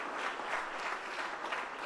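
Church congregation applauding loudly and steadily, a dense wash of many hands clapping that holds for the whole moment without pause.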